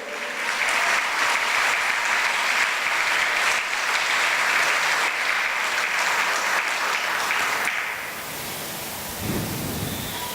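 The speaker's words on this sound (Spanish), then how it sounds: "Si va a alabar, dale el aplauso al Señor, dáselo fuerte." A church congregation breaks into loud, dense applause during a sermon, a sustained roar of clapping for several seconds that drops off abruptly, leaving a softer rumbling wash.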